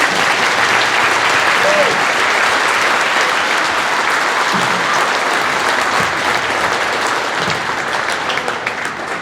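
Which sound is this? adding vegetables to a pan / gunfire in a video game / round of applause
round of applause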